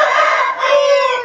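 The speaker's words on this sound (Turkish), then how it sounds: "Horozları gösterelim." A rooster crows loudly and close by, one sustained, wavering cock-a-doodle-doo filling the whole short stretch with no talk.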